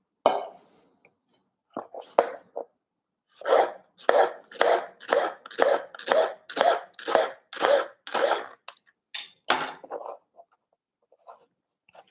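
A knife cuts an onion into slices on a board for black bean burgers, producing a quick, regular run of crisp chopping thuds, close and distinct, with brief rustles and soft breaths around them.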